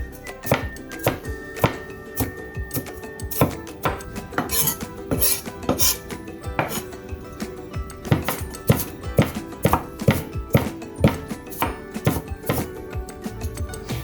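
A knife chops spring onions on a board in a steady run of sharp, close knocks, irregular at first and then falling into a brisk even rhythm, with a constant light background hum and no talking.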